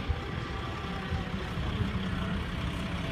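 Heavy trucks roll in at the Fergus truck show, a steady low engine rumble with idling diesel texture, continuous and moderately loud, no talk.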